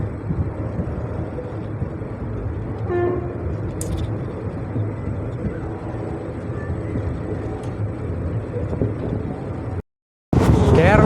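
A Nagercoil–Kollam passenger train runs steadily through hilly southern Kerala, with a continuous loud rumble and rattle of wheels on rails and a few faint squeals and clanks, then a brief gap before the noise resumes.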